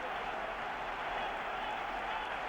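A stadium crowd at an athletics track race roars steadily, a broad sustained wall of cheering and clapping with no break.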